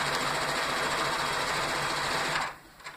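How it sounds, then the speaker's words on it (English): A sewing machine stitches a rag quilt seam slightly wider than a quarter inch, whirring steadily up close for a couple of seconds before stopping with a few faint clicks. "let's sew this together. I'm using just a little bigger than a 1/4 inch seam here"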